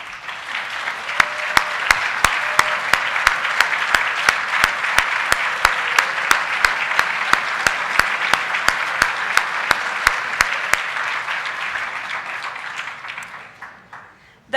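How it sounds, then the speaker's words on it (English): Students at a university vehicle engineering competition awards ceremony receive sustained applause from a standing audience, steady dense clapping lasting most of the span before tapering off near the end. "I'd like to ask you all to stand for a big round of applause."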